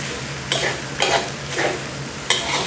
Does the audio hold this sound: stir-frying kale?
yes